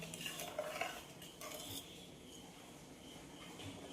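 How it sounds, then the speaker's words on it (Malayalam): Washed rice stirred into boiling water in a pot for a Kerala meat rice dish, a few soft clinking scrapes of a spoon over a low bubbling background. "അരി ഒന്ന് ഇളക്കി കൊടുക്കാം."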